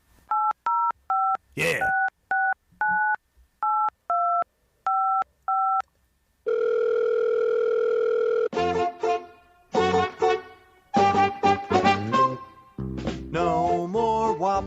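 A telephone theme made of repeated paired DTMF dialing tones in a steady rhythm, then a long steady dial tone, followed by rapid bursts of dialing beeps and tones; a voice speaks briefly.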